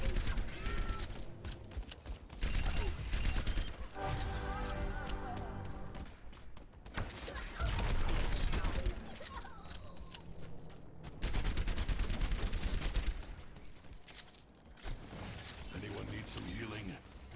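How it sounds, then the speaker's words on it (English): Soldier: 76's heavy pulse rifle in Overwatch fires repeated short bursts of rapid shots, loud and close, separated by brief pauses, mixed with game music, effects and a talking voice. "So do short, sharp bursts if you're trying to go for headshots of about 4 or 5 bullets."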